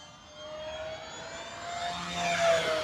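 An FMS P-51 Miss America RC warbird with a 1.1 m wingspan flies at half throttle, its electric motor giving a steady whine whose pitch shifts as it passes, swelling louder toward the end.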